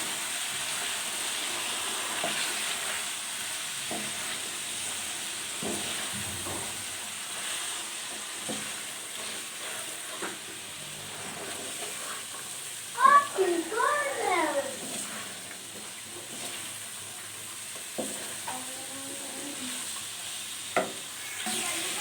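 Carrots, peas and potatoes stirred in a pan with spices and chopped green chili; soft scraping and faint sizzling run along under a talking voice, with a few sharper clatters near the middle.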